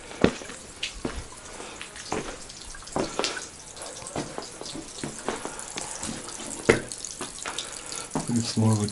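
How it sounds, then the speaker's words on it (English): An old stone water fountain on a road trip in Armenia trickling water, a thin running stream with small splashes and drips, close by and continuous, with some faint voices nearby. "It's more of a trickle than a fountain."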